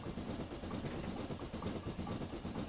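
Steam locomotive on the Elsecar Heritage Railway in Railworks 3, working uphill and slowing; a steady, dense rumble and hiss of the engine and wheels on rails, continuous and moderately quiet, with no talk.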